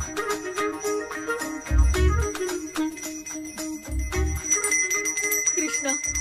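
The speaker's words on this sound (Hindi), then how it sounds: "मुझे जल्दी आओ बोल के यहाँ पर घंटी बजा रहे हो।" In a Hindi-dubbed South Indian horror comedy film, a bell rings by itself. Bright metallic tinkling repeats again and again over low, heavy thumps and tonal background music.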